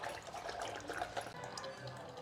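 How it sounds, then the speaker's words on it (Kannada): Hot water poured steadily into cooking dal for a thin thili saaru, a soft, continuous watery rush that stays faint and close without breaks. "ಬಿಸಿ ನೀರು ಆ್ಯಡ್ ಮಾಡ್ತಾ ಇದ್ದೀನಿ."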